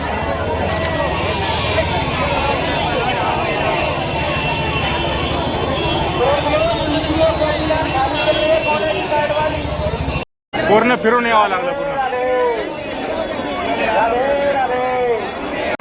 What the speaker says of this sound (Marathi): बाबा जी गर्दी आहे ना इथे खूप जास्त गर्दी आहे